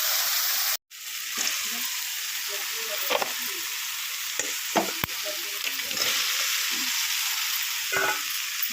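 Crab pieces and potato frying in oil with a cooked paste of onion, ginger, garlic, chilli, salt and turmeric, a steady close sizzle broken by the scrape and clatter of a stirring spoon, after a brief drop near the start.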